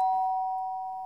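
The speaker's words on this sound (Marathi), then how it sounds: "अरे हळू ते बेल तुटेल" A single electronic doorbell tone rings out clearly indoors at a home, holding steady for about a second and slowly fading, with no voices over it.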